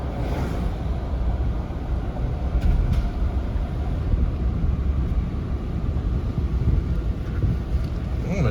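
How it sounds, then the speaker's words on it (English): Dodge Ram 1500 Longhorn 4x4 diesel truck driving with windows down, a steady loud broadband engine and road rumble with wind buffeting throughout, no talking. "I know everybody likes to hear that diesel clatter."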